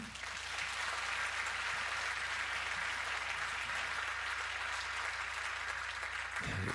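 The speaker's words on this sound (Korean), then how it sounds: "우리 홍정길 목사님 올라오실 때 큰 박수로 환영해 주시면 감사하겠습니다" A church worship-service congregation applauds steadily as a pastor comes up to the stage, a broad, even wash of many clapping hands held for several seconds at moderate loudness, then dying away at the end.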